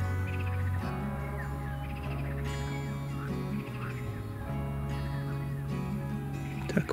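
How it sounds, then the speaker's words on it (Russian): Birds sing through a summer day's outdoor scene near a narrow thicket along a bike ride, with repeated chirping calls over a steady low hum, moderately loud and continuous without speech. "Поют птицы."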